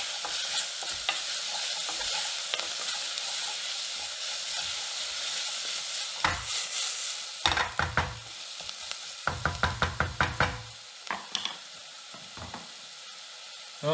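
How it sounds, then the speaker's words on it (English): Chicken and vegetable stew with rosemary, sage and bay leaf being stirred in a pot, a steady sizzling hiss giving way to a run of scraping, clattering spoon strokes near the end. "Give this a quick stir."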